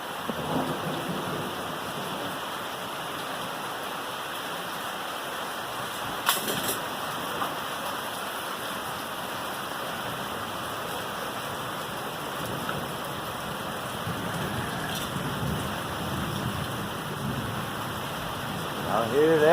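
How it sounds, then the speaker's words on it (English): Heavy rain pours steadily in a thunderstorm with lightning, a constant wash of hiss heard from indoors by a window, with a couple of brief sharper cracks and no clear talk. "Woo! This lightning, everything. Stop busting my window."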